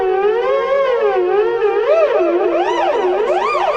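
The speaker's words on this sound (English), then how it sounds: "Sounds like the cops are coming." A police siren wails loudly and continuously, its pitch sweeping up and down in repeated cycles that grow faster and wider toward the end, with no talking.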